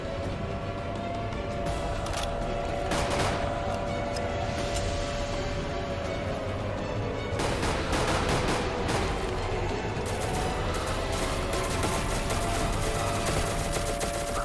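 Loud, sustained automatic gunfire in the Roblox game SCP rBreach, with continuous rapid bursts layered over one another throughout, some shots sharper and closer than others.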